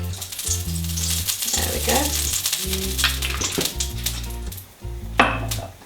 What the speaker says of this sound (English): I'm going to add a bit of olive oil to the bottom of my pan.